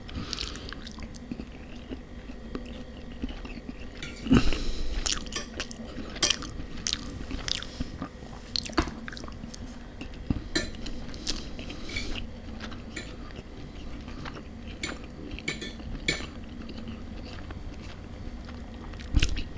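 Close, quiet eating of bacon, scrambled eggs and fried bread with cutlery: soft bites, chewing and crunches with occasional clinks of metal on a plate, no talking.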